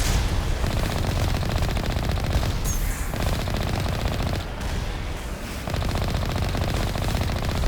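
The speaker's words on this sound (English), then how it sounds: "These guys don't fire their guns. Oh, those guys do." Sustained automatic gunfire in the video game Mass Effect, loud and dense rapid bursts that run almost without pause, with short drops in intensity, and no voices over it.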